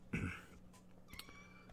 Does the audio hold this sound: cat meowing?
yes